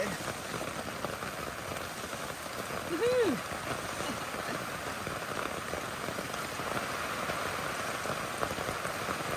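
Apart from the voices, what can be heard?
heavy rain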